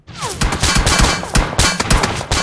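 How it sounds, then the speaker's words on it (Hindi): Rapid bursts of automatic gunfire ring out in BGMI at a military base, loud and sharp, with repeated volleys and overlapping shots from a hillside over a couple of seconds, no speech. "भाई मेरे को पड़ रही थी भाई बहुत तेज तेज गोलियां पहाड़ी से"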